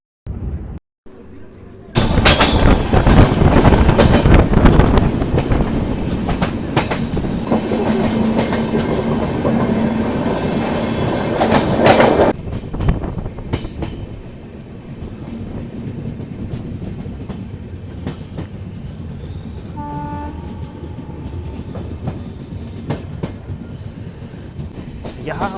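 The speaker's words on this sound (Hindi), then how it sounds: "यहाँ हमारी ट्रेन लूप पे लगाई जा रही है" Uttar Sampark Kranti Express sleeper train from New Delhi to Katra running on rails, a loud steady rumble with clattering wheels that drops to a quieter rolling hum midway, with a voice talking over it.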